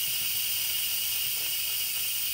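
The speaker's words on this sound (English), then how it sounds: "I'm going to come over here to my Instapot and I'm going to carefully do the vent" An Instant Pot pressure cooker venting steam through its release valve, a steady, loud hiss that runs unbroken throughout with no voices over it.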